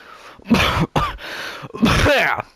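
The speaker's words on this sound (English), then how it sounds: "I'll give you something for that cough." A video game character coughs and clears the throat in a few harsh bursts, close and loud, separated by short pauses.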